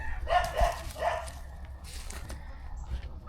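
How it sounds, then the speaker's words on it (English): A farm dog gives a couple of short, moderately loud barks close by, followed by quieter outdoor background noise. "you're gonna hear Tucker bark at Caleb"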